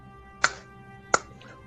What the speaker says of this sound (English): give me 2 claps and a peep